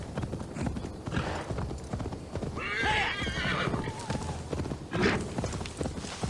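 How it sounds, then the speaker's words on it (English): Horse hooves clip-clop at a gallop in Assassin's Creed Valhalla, with a loud whinny rising over the steady hoofbeats midway and another shorter neigh near the end. "It is perfectly safe to ride a horse while too drunk to walk."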